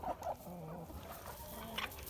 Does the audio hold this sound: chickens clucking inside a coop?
yes